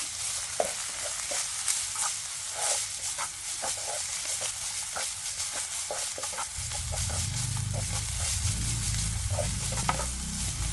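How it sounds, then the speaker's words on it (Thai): Textured soy protein, carrot and wood ear mushroom stir-fried in a hot pan, a steady sizzle broken by repeated scraping, stirring strokes up close, with the frying growing fuller and louder toward the end. "ผัดให้เขามีความหอมขึ้นมาค่ะ"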